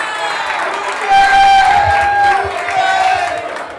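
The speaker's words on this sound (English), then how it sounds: "Give him a round of applause." A stand-up comedy crowd erupts in loud cheering, whoops and shouts for a performer being brought on stage, a dense roar that swells midway with a sustained whistle-like tone riding over it.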